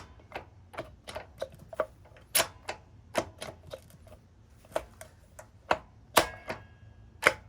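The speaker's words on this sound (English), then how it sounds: "you can actually hear actual shift clicks" Gear shift clicks from a Honda CL350 motorcycle transmission sound as a string of sharp, close mechanical clicks at irregular intervals, about a dozen crisp ticks over near silence.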